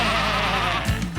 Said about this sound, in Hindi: वो मिमियाती है करके